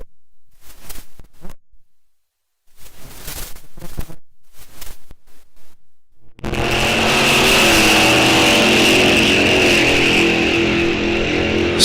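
A Studebaker drag race car's engine suddenly roars in loud and near, holding a strong, harsh drone after a stretch of quieter, scattered sounds at a drag strip.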